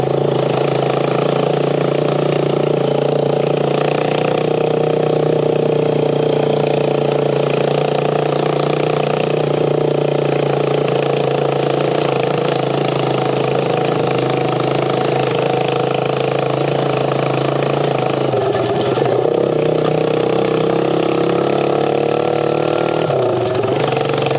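A Lifan 140cc motorcycle engine idles steadily while warming up after a hard start, a loud, close, continuous mechanical drone with a slight dip in pitch near the end.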